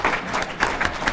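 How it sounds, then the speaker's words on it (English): Debate championship audience giving brief scattered applause, a short burst of clapping in a hall, moderately loud and without talk. "You can clap for Jason if you want"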